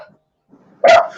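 A single dog bark bursts out loud and close after near silence, one sharp woof followed by a softer trailing tail.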